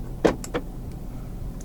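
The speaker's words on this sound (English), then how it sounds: "Central locking." The central locking of a 2020 BMW X1 sDrive18i engages inside the cabin: a sharp mechanical clunk followed by a softer second click and a faint tick, close and brief over quiet cabin hum.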